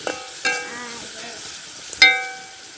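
Onions soften and sizzle in a pan during home cooking. A low frying hiss runs throughout, and two sharp utensil clinks against the pan mark the stirring, with no talk.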